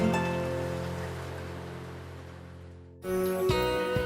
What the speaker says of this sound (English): The bamboo helps to absorb the sound of the rain.